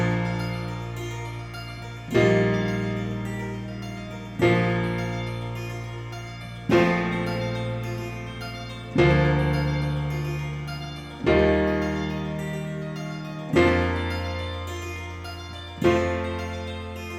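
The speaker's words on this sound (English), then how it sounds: "I'm just providing the chords and letting the arpeggiator handle the rest of the motion there" Big chorus chords for a worship song played on a keyboard with an arpeggiator, a fresh chord struck roughly every two seconds, each ringing out and fading before the next, eight in all, with no voices.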